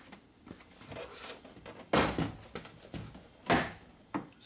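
Plastic rivets on a Mercedes/Dodge Sprinter driver door panel popping free as it is pried off, two sharp loud snaps and a smaller later click among soft scraping and creaking, close up with no talk.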